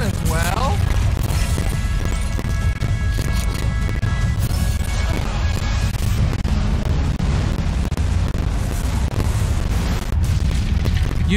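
Heavy booming rocket explosions from the LEGO Movie video game rumble through a dense, loud mix of game effects and music, with a person talking throughout.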